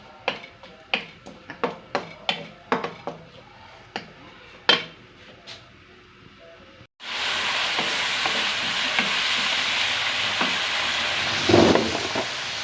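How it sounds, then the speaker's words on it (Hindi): A few sharp clinks of utensils on a pan give way to a sudden loud sizzle as two chopped onions hit hot oil, then a steady close hiss and crackle with occasional stirring, no talking. "अब ये दो अदद हमने प्याज काटे हुए हैं, ये डालेंगे इसके अंदर। इनको हम फ्राई करेंगे।"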